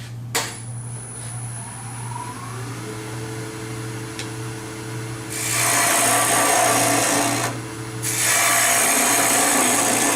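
A wood lathe spins a box blank while a tool flattens its face, a steady motor hum at first, then two stretches of loud, rough cutting hiss from the tool on the wood with a short pause between them.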